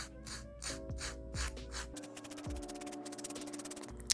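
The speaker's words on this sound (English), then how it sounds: "now I'm gonna take a nail file that's specifically for crafts. I'm just gonna sand down like the rough edges a little." A craft nail file rubbed along the rough edges of a cut shrink-plastic piece, giving close, soft rasping strokes in a steady back-and-forth rhythm, quiet and alone.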